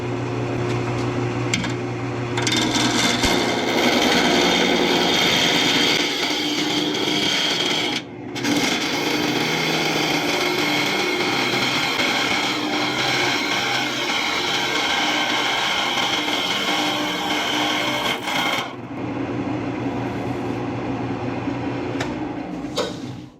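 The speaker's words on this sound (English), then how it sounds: "I'm going to switch over to my bowl gouge." A bowl gouge cutting into a spinning resin box on a wood lathe, giving a loud, continuous scraping whir with the motor hum beneath, broken by a brief dip near the middle and easing off near the end.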